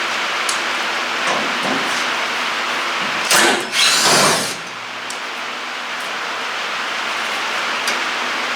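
Power drill driving self-tapping screws into the metal of a 1970 Cougar, a loud continuous whine throughout with a brief louder surge as a screw bites, close and steady, no talk.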